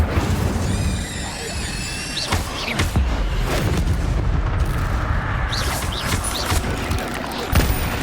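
Incendio fire spells cast repeatedly in Hogwarts Legacy, loud bursting whooshes and booming impacts amid chaotic combat, with sharp crashes and some background voices.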